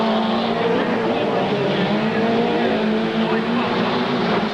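Stadium trucks racing into the first turn, a loud dense roar of several engines droning together with steady rising and falling whine, continuous throughout with crowd or announcer noise blended underneath.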